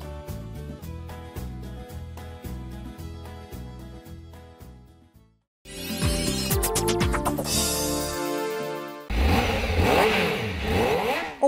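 A car engine revs hard in several bursts, first rhythmic throttle blips, then a brief drop before louder, sustained roaring revs that climb and fall, close and without talk.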